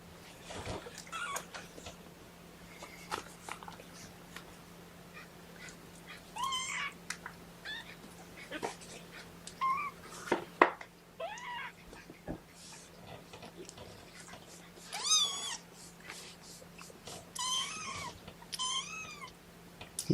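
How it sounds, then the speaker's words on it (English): A kitten meows repeatedly in short, separate cries spread irregularly over about twenty seconds, close and fairly clear against a quiet indoor background with a low steady hum. "He's just crying kitten."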